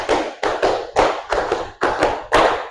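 A classroom of students claps a rhythmic counting pattern together, loud and close, with bursts of clapping grouped in a steady beat and short gaps between groups.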